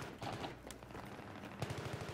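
Suppressing fire in a 5v5 Grand Bazaar competitive video game match: rapid bursts of automatic gunshots, fairly distant and moderately loud, with a denser rattling volley toward the end.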